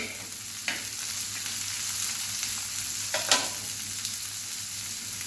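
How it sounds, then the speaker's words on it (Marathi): Fenugreek leaves and garlic fry in a pan over medium heat with a constant soft sizzle and hiss, broken by a few quick scraping stirs, close up and with no voices. "गॅस आपल्याला मीडियम ठेवायचा आहे छान खालीवर करून आपल्याला हे भाजून घ्यायचं आहे"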